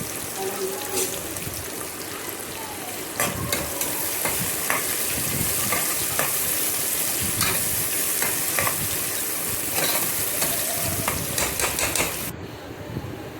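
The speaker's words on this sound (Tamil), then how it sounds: "2 வெங்காயம் பெரிய வெங்காயத்தை இதில் நம்ம சேர்த்து நல்லா வதக்குங்க" Two big chopped onions sizzle and fry in hot oil for a spicy crab gravy, with steady crackling and intermittent stirring scrapes close up throughout.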